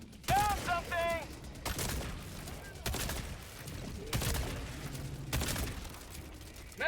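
Repeated bursts of gunfire from the video game Helldivers, loud and broadband, arriving in several volleys spread across the stretch, with a brief voice-like tone early on.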